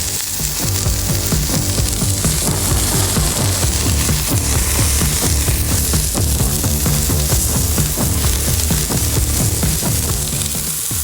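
Smash burger patties seasoned with salt and heaped with onion sizzle loudly and steadily on a Blackstone griddle, a dense continuous fry with faint scraping and clicks throughout.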